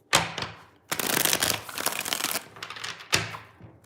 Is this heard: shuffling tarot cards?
yes